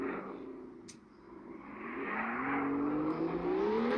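A car drifts in the video game Drive Zone Online, its engine dipping and then revving up into a rising, sustained whine with a short squeal of tyres.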